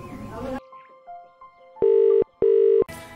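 Ringback tone heard while a telephone call is being placed: two steady, loud electronic ring bursts with a short gap between them. A voice talks before the tones begin and again after they end.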